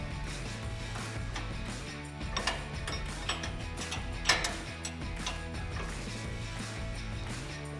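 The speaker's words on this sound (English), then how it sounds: "Now for the bottom of the strut, you'll need a 19mm wrench." A wrench works the strut's bottom nut on a 2005-2021 Toyota Tacoma during a suspension lift, with a steady run of ratcheting mechanical clicks and a few louder metallic knocks against a constant background hum.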